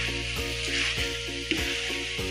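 Bihon rice noodles and meat get stirred in a hot pan: a constant sizzle under rhythmic, squeaky scraping strokes of a spatula repeating about every third of a second, close and loud.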